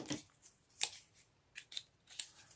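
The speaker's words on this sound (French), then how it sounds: "Donc, je vais couper un petit morceau," Scissors snip a small piece from a VHS cassette, several short crisp cuts spaced irregularly, close and clear with no talking.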